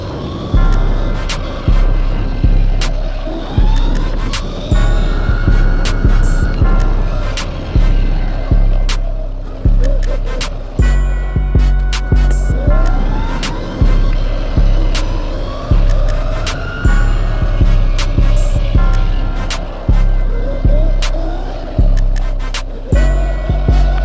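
MOTOTEC 60v 2000W electric dirt bike being ridden, a whirring motor that repeatedly surges and drops with the throttle, with bumps and rattles from the ride and steady wind noise, no talk.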